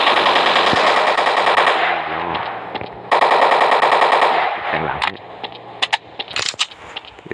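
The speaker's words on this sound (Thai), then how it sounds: "ยิงเล่นเลย เราใช้ AK" Sustained automatic AK rifle fire from the Flat Zombie video game, loud and continuous bursts with brief pauses, followed by scattered clicks and mechanical clatter near the end.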